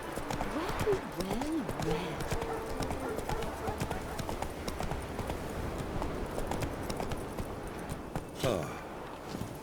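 Hooves clip-clop at a quick, regular pace as a horse gallops in The Witcher video game, with voices heard over the rhythmic hoofbeats.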